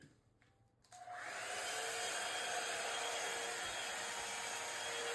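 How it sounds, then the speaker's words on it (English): A handheld hair dryer switches on after about a second and blows steadily at close range, a continuous loud broadband whoosh while hair is blow-dried during braiding, with no talk over it. "I told you I'm about to blow dry."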